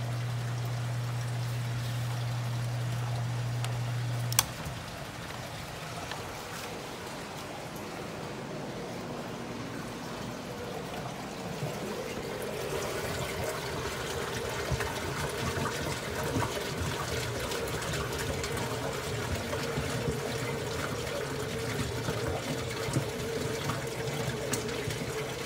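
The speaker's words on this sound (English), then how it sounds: "Water will continue to fill up the sump until it gets to the bottom of the intakes of the Synergy overflow box" Water pouring and filling a DIY aquarium sump during a power outage test, draining down from a Synergy overflow box; a steady trickling, splashing flow that swells and becomes fuller after a hum cuts off.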